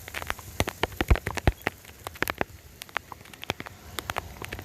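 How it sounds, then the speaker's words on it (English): Rain pattering steadily on outdoor surfaces before a major storm, with scattered sharp drop impacts throughout, close and moderately loud with no voices. "I'm going to go ahead in the rain as I'm pulling up"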